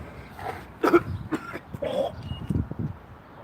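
A few rough, throaty coughs and throat-clearing bursts, close and fairly loud, spread across a few seconds with no talking.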